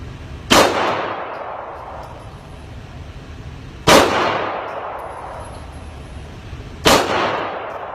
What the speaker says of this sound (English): now I'm going to shoot the 3 rounds again to reestablish the typical, the 7 yard zero that we think is so important